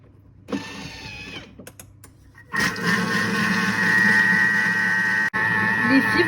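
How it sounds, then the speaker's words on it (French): Eggs and vanilla sugar beaten with a whisk, heard as a loud, continuous whirring mechanical drone after a shorter burst and a brief pause, close by with a sharp cutoff near the end. "vous allez venir avec votre fouet fouetter le mélange œuf, sucre vanillé pendant 5 minutes"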